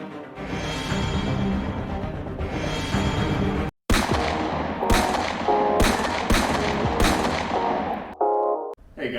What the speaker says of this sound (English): I am shooting the new 72 cal by Extreme Big Bore Air Rifles